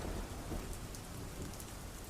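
Heavy rain pours in a dense, continuous wash, with low rumbling thunder underneath, used as a storm effect in an audio drama.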